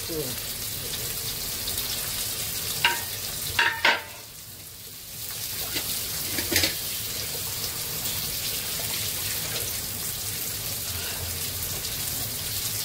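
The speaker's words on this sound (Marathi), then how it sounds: "बोंबील फ्राय करते" Bombay duck (bombil) fish frying in oil in a pan, the same pan just used for prawns, makes a loud continuous crackling sizzle broken by brief spatters and clatters early on.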